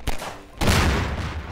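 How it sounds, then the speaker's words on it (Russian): Fireworks salute in the video game Garry's Mod: a brief burst at the start, then a loud dense crackling barrage of rapid explosions that continues to the end. "Салют с гусем Саньком"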